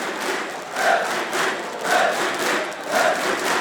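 Fans at a Counter-Strike esports semifinal in Katowice chant in unison, a rhythmic crowd call swelling roughly once per second in repeated loud pulses over a constant murmur of the arena.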